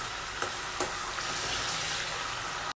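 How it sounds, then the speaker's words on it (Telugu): Curry leaves and vegetables fry in a pan with a steady, close sizzle, broken by a few soft stirring scrapes near the start before it cuts off abruptly at the end. "కర్రీ లీవ్స్ యాడ్ చేసిన తర్వాత ఇవన్నీ కూడా గోల్డ్ కలర్ వచ్చేంత వరకు ఫ్రై చేసుకోవాలండి"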